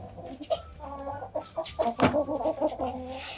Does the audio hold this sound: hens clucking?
yes